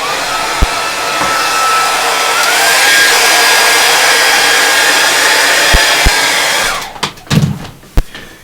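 A hair dryer blows loud and steady across a painting of mountains for nearly seven seconds, then cuts off, followed by a few sharp knocks and handling clatters.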